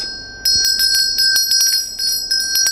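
A small hand bell used in dharma practice rings with a run of bright, sharp strikes that start abruptly and repeat in an uneven rhythm, each chime ringing on steadily, close and loud, with no talking.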